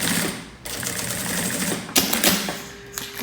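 Straight-stitch sewing machine running a seam through a wallet lining, a loud, close, steady whirring broken by brief pauses and a few sharp clicks, no talking.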